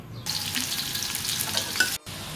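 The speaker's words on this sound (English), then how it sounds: "Once the oil is hot enough, put in the sliced onions and fry them until they are golden brown." Sliced onions fry in hot oil in a wok, giving a steady, close, bright sizzle with light stirring and no talk, ending with a brief pause before the sizzle resumes.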